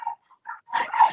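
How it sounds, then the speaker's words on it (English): Dogs bark and whimper a short way off behind a person on a call, a few sharp yelps followed by a louder burst of barking, with no talk over them. "please pardon the dogs which are barking behind me"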